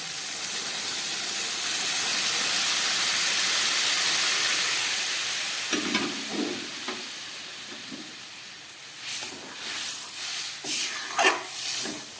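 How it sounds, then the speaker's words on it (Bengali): Warm water poured into a hot pan of prawns and poppy seeds sets off a loud, rushing steam hiss and sizzle for several seconds. It then settles into softer bubbling with intermittent stirring scrapes, and no voices are heard. "এবার আমি দিয়ে দিচ্ছি উষ্ণ গরম জল।"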